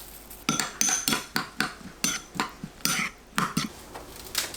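A spoon mixing a soy sauce seasoning with garlic, chili, sesame oil and sesame seeds in a bowl, quick repeated clinks and scrapes in an uneven rhythm, close and fairly quiet.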